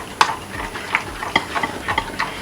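Tomato puree frying in a pot for Nigerian party jollof rice, with a soft steady sizzle and a few close scraping stirs of a spoon, no voices.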